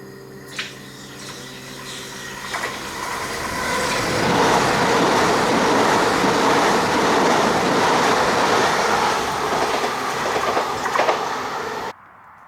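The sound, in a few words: high-speed train at a new station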